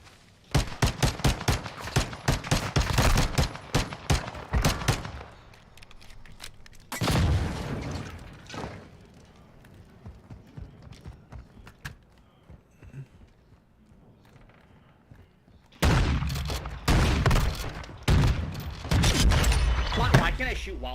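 Bursts of rapid gunfire from a shooter video game, dense rattling volleys at the start, a shorter burst in the middle and a loud sustained stretch at the end, with quieter gaps between.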